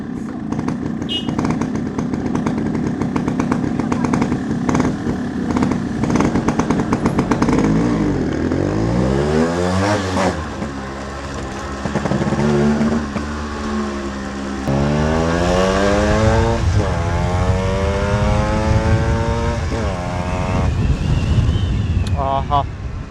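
An RX motorcycle engine, left standing for many days, starts and revs repeatedly after a water service, loud and close, rising and falling in pitch with wind noise and people talking over it.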